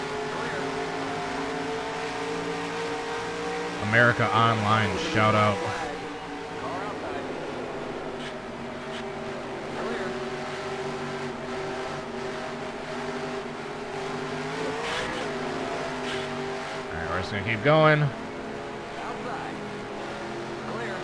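Chevy stock car engine droning steadily in NASCAR Racing 2003, a sustained motor tone with brief louder surges of revving, running under a person talking throughout.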